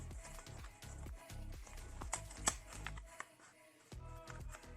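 A package of Lotto scratch cards being opened by hand, with close, quiet crinkling of wrapping and paper plus a few sharp tearing or snapping ticks, no talk.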